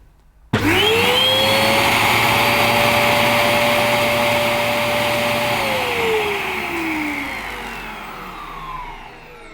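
Zanussi AirSpeed Lite II, a 700 watt bagged upright vacuum, switches on abruptly and runs loud and close with a suction gauge on the hose, its motor whine rising as it spins up, then dropping in pitch as the suction load changes.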